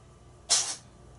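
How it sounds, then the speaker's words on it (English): A cat sneezing in a room where a lock is being picked and taken apart, one short sharp burst of breathy noise, somewhat distant, with no talking. "That's a cat sneezing over there."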